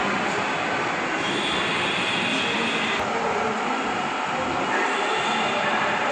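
A metro train approaching a station platform, a steady loud rumble with rising rail noise and faint squeal, continuous throughout with a brief muffled voice in the background.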